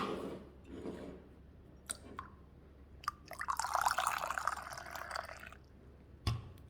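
Drip coffee trickles through a filter, soft irregular drips and a thin running pour close by and quiet, with a few sharp clicks and taps in between.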